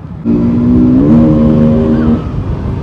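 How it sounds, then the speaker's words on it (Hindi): Car traffic on a crowded street in Bhopal during New Year crowds: a loud, close engine drone with a steady rising tone that holds for about two seconds, then fades back into general street noise. "ट्रैफिक लग चुका है यहाँ पे पूरी कार्स वगैरह बाइक"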